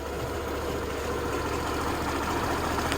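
A Suzuki Burgman Street 125 scooter with an idle control fault idles steadily on its own, a constant low engine hum with a faint rattle throughout and no talking.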